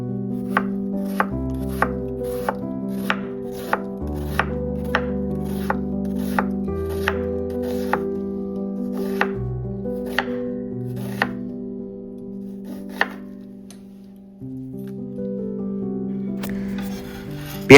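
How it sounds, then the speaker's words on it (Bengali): An onion being chopped into long slices on a cutting board for a beef bhuna, a long run of crisp, evenly spaced knife strikes up close, slowing near the end, with no voices. "আমরা পেঁয়াজটা লম্বা লম্বা করে কেটে নেওয়ার চেষ্টা করব।"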